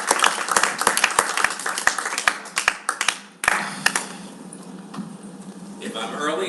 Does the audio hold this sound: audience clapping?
yes